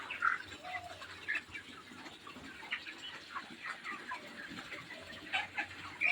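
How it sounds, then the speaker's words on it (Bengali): Chirping from a large flock of young chicks inside a poultry farm housing about 1500 birds, with scattered high peeps and soft clucks over a steady low hum of the shed. "এই যে দেখেন, এই হলো পোলট্রি ফার্ম। মোটামুটি এখানে 1500 মুরগির বাচ্চা আছে।"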